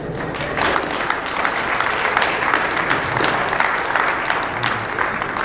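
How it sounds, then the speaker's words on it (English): An audience at a comedy hypnotist's fundraiser show in Center, North Dakota gives a round of applause, a sustained, even burst of many hands clapping without voices over it. "Give him a round of applause."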